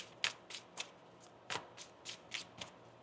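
Tarot cards are riffled and shuffled in a quick series of crisp, close bursts, about eight in three seconds, with nothing else audible.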